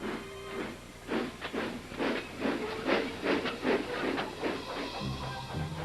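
Rhythmic hissing chuffs from a cartoon steam engine puffing steadily along, close and continuous, with a low tone entering near the end.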